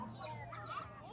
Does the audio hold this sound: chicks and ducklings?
yes